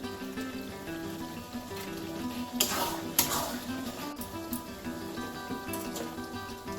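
A spice paste with garam masala powder is sautéed in a pan ahead of adding mutton, a low, steady sizzle broken by spatula scrapes and a few sharp clanks against the metal.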